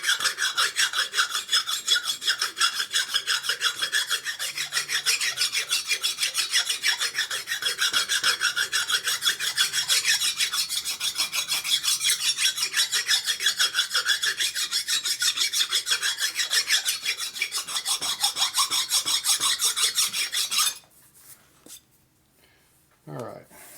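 A hand file rasps rhythmically across the high spots of a Harley-Davidson Sportster 1200 cylinder head gasket surface, stroke after stroke at close range for about twenty seconds, then stops.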